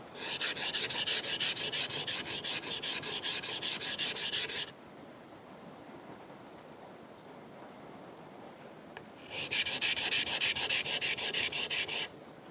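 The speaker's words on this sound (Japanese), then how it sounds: "もうなんか明らかにガリガリ言ってますもんね、バリが。" A Japanese plane blade is rubbed on a sharpening stone to grind off the burr. Two long bursts of rhythmic, gritty scraping strokes are separated by a quiet pause, close up and without speech.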